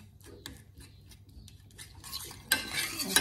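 A spoon scrapes and stirs panang curry paste in a pan, soft metallic clinks and rubbing at first, then a louder sizzling burst in the final second, close and with no talk.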